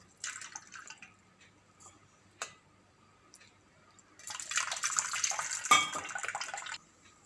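A vessel is rinsed to wash out a lemon smell: a few scattered drips and taps, then a steady gush of running water for a couple of seconds before it shuts off.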